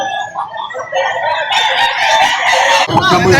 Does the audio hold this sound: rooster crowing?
yes